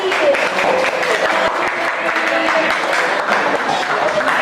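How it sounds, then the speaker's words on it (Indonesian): A crowd at a circular economy and green jobs seminar applauds continuously with dense, even clapping, while voices carry on underneath. "Tepuk tangan untuk Merlin."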